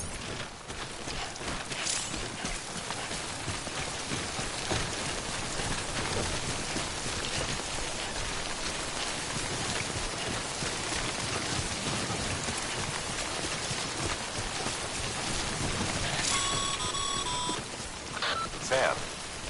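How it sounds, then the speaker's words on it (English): Timefall rain falls steadily in the Death Stranding video game, a dense close hiss with pattering drops throughout, then a few electronic beeps near the end. "Don't stay out in the rain any longer than you have to."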